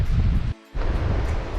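Windy sea with waves washing steadily around a sailing boat off Antigua, a broad continuous roar of surf and wind noise with a short near-silent gap in the middle.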